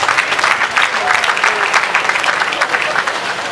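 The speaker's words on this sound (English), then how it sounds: "Please, can we give him a round of applause?" A hall full of people at the Ogun State College of Health Technology convocation breaks into a steady round of clapping that carries on evenly for a few seconds.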